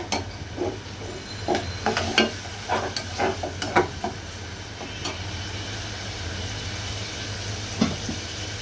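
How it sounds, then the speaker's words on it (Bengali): Pumpkin and shrimp fry in oil while a spatula stirs and scrapes the pan, several clustered scraping strokes over a low steady sizzle and hum, close up, then the sizzle continues alone. "নেড়ে চেড়ে দিচ্ছি"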